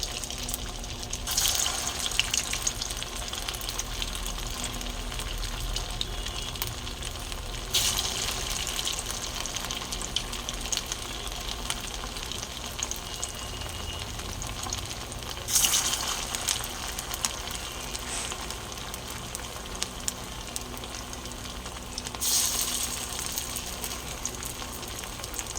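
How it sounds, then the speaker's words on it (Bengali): Pieces made from stale leftover rice fry in hot oil in a wok, giving a steady, close sizzle that hisses continuously. A few brief louder crackling bursts break through now and then, and no one speaks. "তেল গরম হয়ে গেছে, এবারে একটা একটা করে ছেড়ে দেবো।"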